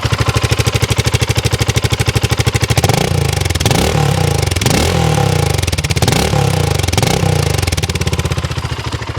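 A new BSA Gold Star single-cylinder motorcycle, close and loud, idles with a fast, even thump, then the exhaust is revved in several quick blips that rise and fall before settling back.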